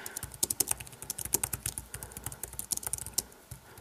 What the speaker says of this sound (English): let's go ahead and type